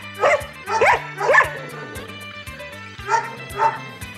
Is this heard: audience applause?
no